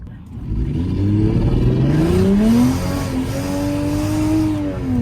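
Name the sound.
turbocharged Lexus IS300 engine misfiring while revving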